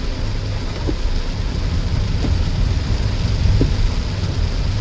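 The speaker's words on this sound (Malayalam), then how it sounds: "മഴ അല്പം ഒന്ന് കുറഞ്ഞു." Heavy rain heard from inside a moving car on a forest road near Nedumangad, a constant dense hiss with low road rumble and a few faint rhythmic wiper thumps, no talking.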